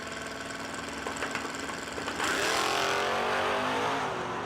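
Drag cars, a 1973 Plymouth Duster and a Ford Mustang, sit on the strip with engines burbling, then both roar up loudly in a sustained rising launch.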